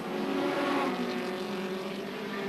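Hot rod racing cars at the 1978 Hot Rod World Final roar around the track in a dense, continuous engine drone, loud and steady with layered motors close by and no voices over it.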